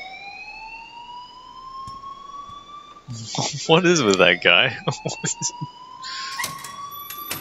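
A school alarm in Life is Strange rings as a continuous high electronic tone in the background while a person speaks over it with a few short remarks.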